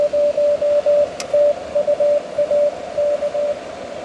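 A distant amateur station comes in over HF radio as a steady on-off tone, keyed in short bursts like Morse code above a constant hiss of static, fairly faint throughout.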